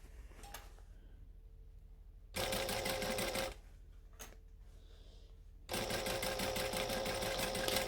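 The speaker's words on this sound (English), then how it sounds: "So I'm going to stitch it from the other side where I can see what it's up to." A sewing machine stitching a shirt in two bursts of rapid, steady mechanical whirring and clatter, separated by a quiet pause with faint clicks, loud and close.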